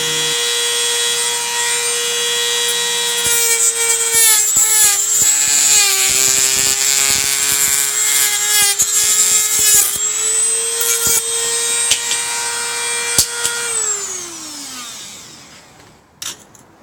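Rotary power tool whining at a steady high pitch as it cuts a plexiglass sliding door track to length, with rough grinding and rubbing over it, loud and close, then spinning down to a stop near the end.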